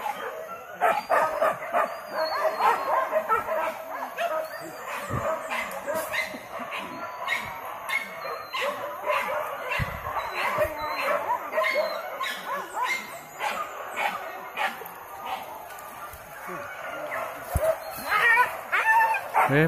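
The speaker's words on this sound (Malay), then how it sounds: "Terlancuk anjing nak betul." A pack of hunting dogs bays and yelps almost continuously while chasing wild boar in the West Sumatran forest, excited overlapping barks at mid distance with occasional human voices.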